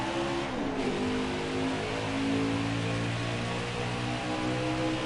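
Race truck engine from a Truck of Tomorrow series racing game at Pocono, held at steady high throttle: a loud, continuous droning roar with stacked engine harmonics and a brief pitch dip near the start, no talk.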